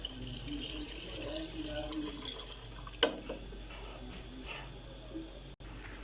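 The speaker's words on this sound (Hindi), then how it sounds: "अब हम इसमें पानी शामिल कर देंगे।" Water goes into a pot of beef nihari, a soft continuous pour and trickle heard close and quiet, with one sharp clink partway through and no talking.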